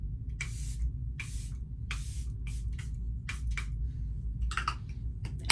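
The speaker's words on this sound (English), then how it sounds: "now I will top it all off with my brand new Charlotte Tilbury setting spray" A Charlotte Tilbury setting spray pump fires a series of short, close, soft hissing bursts, some spaced apart and some quicker, over low room hum with no talk.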